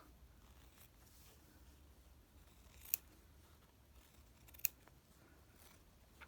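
Two short, sharp snips of scissors cutting scrap fabric for a yoyo Suffolk puff, close and quiet against a faint room hush, spaced a couple of seconds apart.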